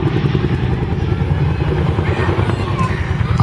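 A Boeing Chinook twin-rotor helicopter flying an airshow display makes a loud, rough, pulsing blatter from its turning rotors, steady throughout, with a voice talking over it.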